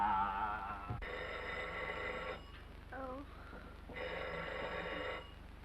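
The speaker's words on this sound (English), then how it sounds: "make them stop ringing. That phone will break my head open" An old-fashioned telephone bell rings in long repeated bursts with short pauses between, fairly close, while a voice murmurs faintly in a 1937 film scene.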